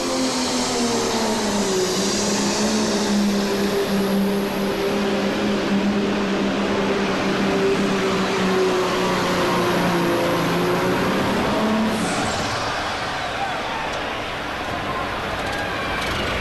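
A pulling tractor revs up at a farm machinery show, its engine roaring loud and steady with the pitch climbing and then falling away near the end, while a voice talks faintly underneath.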